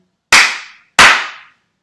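Two sharp, loud hand claps ring out close by, spaced about two-thirds of a second apart, each with a short reverberant tail, used to call a room to attention.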